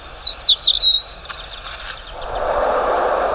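A sparrow sings at dawn in a garden, a few quick high chirping notes up front, then quieter pauses and a soft wash of background noise taking over.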